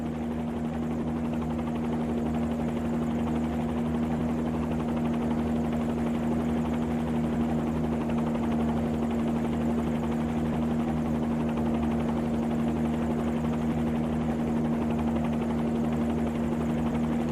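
A Bell 47 helicopter in a flight simulator holds a hover and settles toward landing, giving a steady droning rotor and engine hum with a constant low tone and no change in level throughout.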